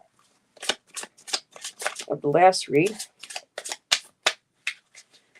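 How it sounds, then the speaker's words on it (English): Tarot cards being shuffled by hand, a run of crisp riffling bursts and quick flicks in an otherwise quiet room, with a brief spoken phrase early on. "Let me start shuffling and getting the energy"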